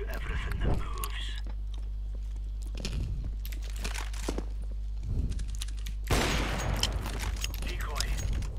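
Several bursts of gunfire from the video game Counter-Strike, with sharp shots at the start and a dense burst near the end, under a steady low hum and some background voices.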